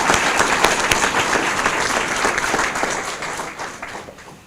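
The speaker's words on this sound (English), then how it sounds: "I would ask you to give them a round of applause" A crowd at a State of the City event applauds the fire department chief with dense, sustained clapping that slowly fades over a few seconds.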